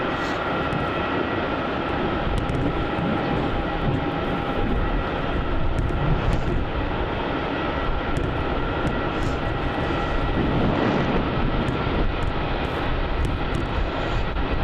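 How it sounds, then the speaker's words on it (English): A Qantas Airbus A350 jet arriving on the runway at Melbourne Airport, a steady loud engine roar that continues unbroken the whole time, with no talk over it. "we've got the Qantas A350-200 going to arrive here on runway 16 by the looks of it"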